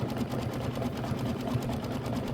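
An embroidery sewing machine stitches a quilted Christmas wall block with a steady, rapid needle rhythm, close and continuous with no talking.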